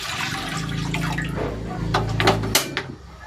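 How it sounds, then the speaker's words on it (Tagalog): Water splashes and gurgles as it pours into a pot, with a low background hum and a few brighter splashy bursts near the end. "Maglalagay na ako ng tubig dito sa kaserola."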